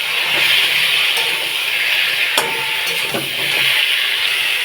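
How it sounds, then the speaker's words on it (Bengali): Taro sautéing with spices in a little oil in a pan, a steady broad sizzle with occasional stirring scrapes, close and continuous with no talk. "মশলার সঙ্গে কচু ভালো করে কষিয়ে নেব"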